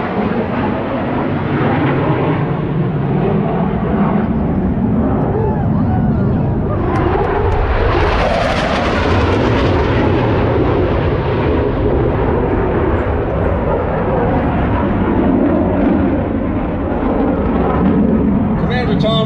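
A Blue Angels jet makes a high-speed pass near 700 mph, about 0.94 Mach, at the Pensacola NAS air show, a continuous loud roar that swells to a peak midway, with an announcer talking over it.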